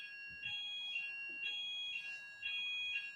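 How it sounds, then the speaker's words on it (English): A fire alarm beeps in repeated bursts of a high electronic tone, about three pulses, moderately faint, with a few quiet murmurs in the background. "Is that a fire alarm?"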